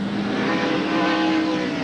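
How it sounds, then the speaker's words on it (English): NASCAR race cars roar around Sears Point Raceway in 1994, including a Valvoline Ford, as a loud, sustained engine drone that holds steady for a couple of seconds without talking. "Bobby Labonte is hanging on to that Valvoline Ford"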